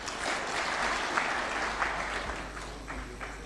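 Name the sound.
audience applause for the President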